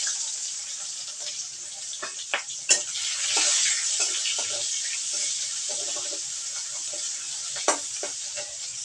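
Chopped onions frying in a pan as a spicy green papaya dish with fresh chillies is cooked: a steady bright sizzle runs throughout, broken by occasional stirring clatters and scrapes, with no talking.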